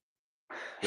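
A single sneeze, a sharp short burst of breath that rises suddenly and ends in a louder final puff, close to the microphone and isolated in an otherwise silent moment.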